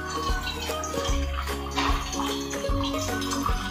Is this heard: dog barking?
no